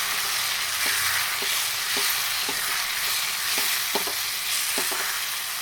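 Spice powder is stirred into a roasted mixture in a pan for jeera-menthya chitranna, with a steady close sizzle and repeated sharp scrapes of the spoon against the pan.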